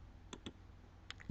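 Mouse clicks while selecting a perpendicular bisector tool in geometry software: a few quiet, sharp clicks, two near the start and a couple near the end, over faint room hiss.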